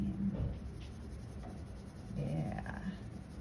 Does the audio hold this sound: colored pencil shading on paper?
yes